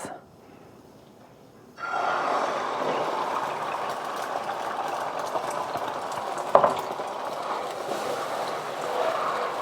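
Eggs hit a hot pan during egg fried rice cooking, starting from near silence into a steady, broad sizzling hiss that continues throughout with a brief sharper clatter midway.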